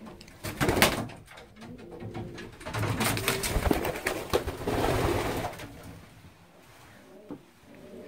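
A domestic pigeon kept for breeding coos close by in repeated low, throaty bursts, with a few quieter gaps and soft rustling between calls.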